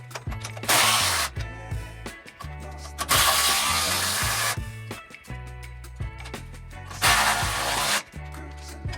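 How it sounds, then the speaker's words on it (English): Impact or power tool tightening bolts on the front suspension of a 1967 Ford F100 during a QA1 suspension install: three loud sustained whirring bursts about a second or more each, separated by shorter clicks and clunks, no talking. "I'm gonna tighten up all these bolts with this first, and then come through torque all of them down."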